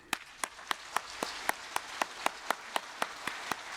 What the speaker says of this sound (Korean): 이제 이때 하나님께 박수해야 돼요.